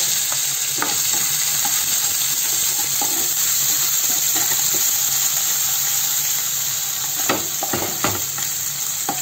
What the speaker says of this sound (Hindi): ओनियन को अच्छा फ्राई करेंगे